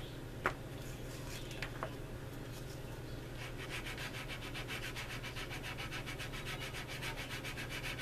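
Sandpaper is rubbed against a plastic model Spitfire kit on a cutting mat, a quiet steady scratching with a rapid back-and-forth rhythm that grows more regular in the second half, with no talk.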